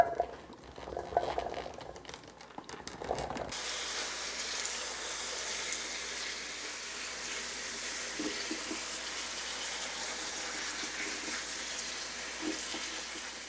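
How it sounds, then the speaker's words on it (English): Freshly picked strawberries are washed under a running tap, a steady, close hiss of flowing water that starts after a few seconds of quieter handling noise and continues evenly. "First thing you want to do when you get your freshly picked strawberries home is wash them."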